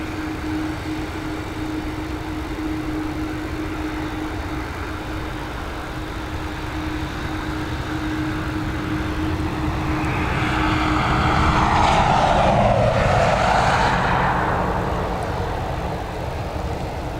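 An airliner departs Dublin Airport from runway 10R, bound for Toronto. A steady, loud engine roar builds and then swells to a broad whooshing peak as the aircraft passes, before easing off again.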